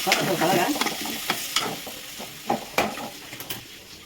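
Eggplant and spinach coated in masala fry in a pan with a steady sizzle, while a spoon scrapes and clinks against the pan in several sharp strokes, close up.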